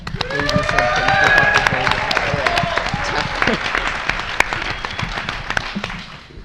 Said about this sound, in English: Let's give our teams another big round of applause.